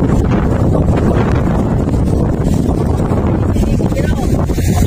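Strong wind roars and buffets the microphone aboard a small boat at a fishing spot, a loud, continuous rumbling gust with no letup.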